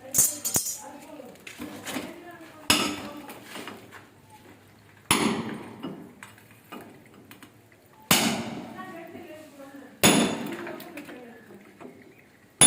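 A hammer strikes a clamp on a bathroom water pipe in a series of sharp, loud metallic blows spaced a few seconds apart, with brief ringing and quiet gaps between hits.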